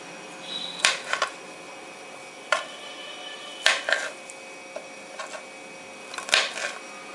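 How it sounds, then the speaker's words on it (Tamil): Knife cutting boiled tapioca into cubes on a board, a handful of sharp, separate chopping knocks spaced a second or so apart, close and clear over quiet room hiss. "இந்த மாதிரி கியூப்ஸா கட் பண்ணி எடுத்துக்கலாம்"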